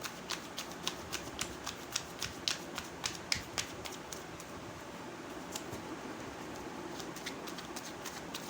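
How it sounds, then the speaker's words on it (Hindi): Tarot cards shuffled by hand up close, giving a quick run of crisp riffling clicks and soft slaps that repeat steadily for several seconds with no talking. "Let's shuffle the card."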